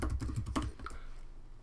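Rapid typing on a computer keyboard while entering Xcode code, a quick close run of clicky keystrokes that stops after under a second, leaving faint room noise.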